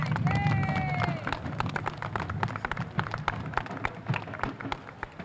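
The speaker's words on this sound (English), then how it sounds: "Give him a round of applause, please." Audience applause greets a deputy mayor at a community center turf event, a scattered, moderate clatter of hands that begins under a voice and carries on alone for several seconds.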